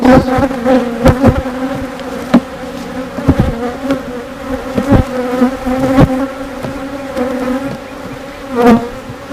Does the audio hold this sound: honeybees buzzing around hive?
yes